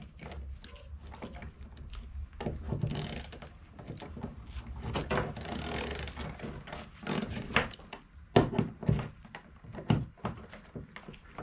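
A chain breaker tool cranked to push a pin through a Honda Grom motorcycle chain, giving irregular metallic clicks, creaks and scraping taps, close and moderately loud.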